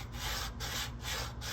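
Sandpaper rubs back and forth across an R2-D2 arm panel, shaping it to a curve in four even, rhythmic strokes, close and scratchy with no talking.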